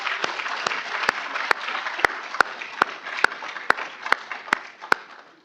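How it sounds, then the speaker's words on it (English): An audience breaks into steady applause at a civic event honoring a new mayor of Raleigh, with a dense wash of clapping and sharp individual hand claps standing out nearby. "we can clap"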